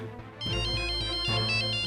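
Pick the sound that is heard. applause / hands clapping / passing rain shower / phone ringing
phone ringing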